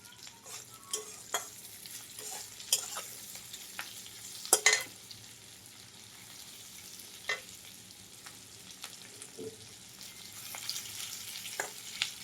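Ingredients are stir-fried in a pan, with a steady soft sizzle under repeated scraping and stirring clicks of a utensil against the pan. No one speaks.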